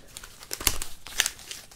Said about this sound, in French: déballer ces boosters Célébration après avoir déballé les boosters Reine de Glace.